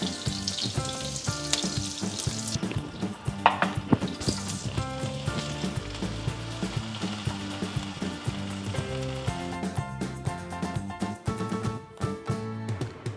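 Ginger, garlic, green chilli and curry leaves sauté in a pan for spinach cutlets, a continuous frying sizzle running underneath louder background music.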